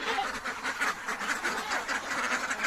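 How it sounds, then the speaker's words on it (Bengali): A flock of domestic ducks eager for feed quacks in a dense, continuous chorus, close by and fairly loud, with rapid overlapping calls throughout. "হাঁস রাক্ষস হয়ে গেছে কাবার লাগিয়া"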